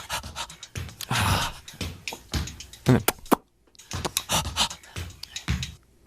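A singer's sharp, rhythmic breathing mixes with bodily percussion, stomps and clicks in close, dry bursts. After a brief pause the pattern resumes. A short spoken phrase slips in early.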